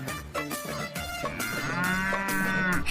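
A cow moos in one long, loud, drawn-out call that swells over the middle and end, with a few short knocks and rustles before it and no talking.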